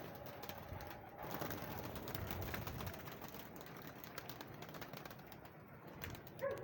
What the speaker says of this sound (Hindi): ये कबूतर बहुत अच्छा मैंने पकड़ा